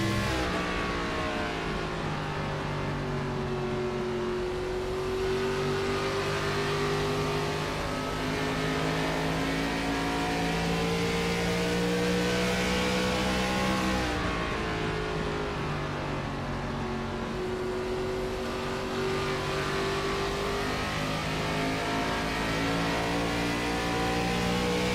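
Onboard ARCA race car engine at Phoenix, loud continuous engine drone climbing in pitch through each straight, dropping briefly to a lower note mid-lap, then climbing again.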